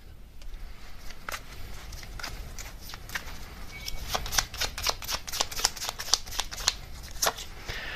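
Tarot cards are shuffled and drawn in a quiet room, a run of crisp riffling snaps and flicks that start sparse and grow quicker and denser toward the end.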